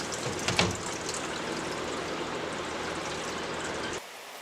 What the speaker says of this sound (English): pull the drum off the Jobo and allow the water jackets to drain